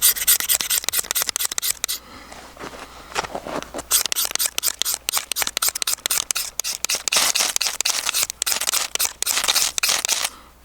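A tarp's coating is scraped off in quick, repeated rasping strokes, close and loud, in irregular bursts with a short pause partway through.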